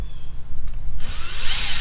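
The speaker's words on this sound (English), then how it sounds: "Next, we're going to drill the hole into the ceiling." A short, loud burst of a power drill spinning up and biting into a ceiling, whining sharply after a brief quiet lead-in.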